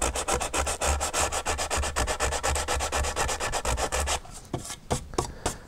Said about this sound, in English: Just sand off that